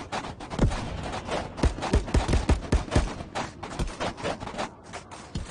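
Gunfire in the VR shooter game Contractors: a scattered series of sharp shots, some close and punchy, others more distant, arriving in irregular bursts over a few seconds with no talking.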